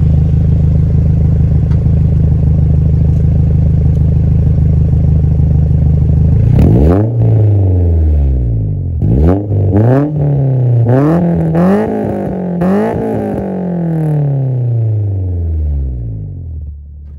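A Nissan Silvia S14 with a new Japanese exhaust and 3-inch piping idles with a deep steady burble, then is revved hard several times, each loud rise and fall crackling as it drops back.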